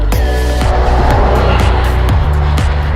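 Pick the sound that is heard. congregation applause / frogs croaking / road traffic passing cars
road traffic passing cars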